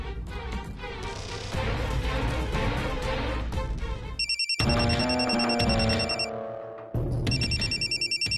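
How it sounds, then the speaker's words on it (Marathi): A phone ringtone plays in repeated electronic bursts over background music, loud and close, pausing briefly before ringing again. "डॉक्टरचा फोन आहे. उचल आणि स्पीकरवर टाक."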